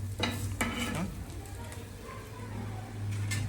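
Paneer stir-fried on a pan: a soft, continuous sizzle with a few scraping stirs of a spoon against the metal near the start, close by, with a low steady hum beneath.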